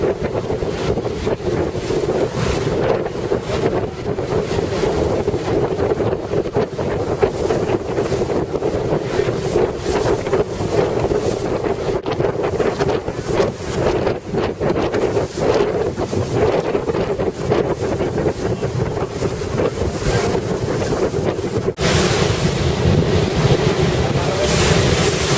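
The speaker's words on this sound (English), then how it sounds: "It's the next ferry passing by the Statue of Liberty." On a New York ferry ride past the Statue of Liberty, heavy wind buffets the microphone over a constant rush of water and engine rumble, loud and unbroken throughout.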